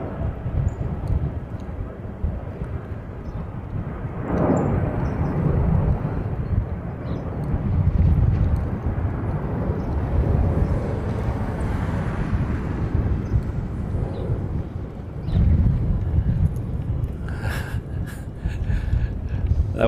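Airbus A380 in Hawaiian Flying Honu livery passing overhead during plane spotting, a broad, steady jet roar that swells and fades gently over about twenty seconds, with wind buffeting the microphone.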